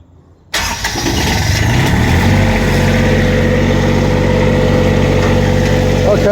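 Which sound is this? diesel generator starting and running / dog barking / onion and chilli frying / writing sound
diesel generator starting and running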